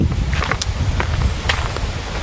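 A steady outdoor breeze near a stream in the Philippines, rustling and gusting close to the microphone with some wind buffeting, continuous and fairly loud, with no voices.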